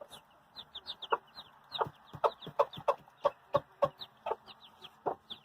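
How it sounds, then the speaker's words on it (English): Silkie hens cluck repeatedly in short, irregular bursts close by, soft rhythmic clucks with a faint background hum. "These silky hens seriously never stop."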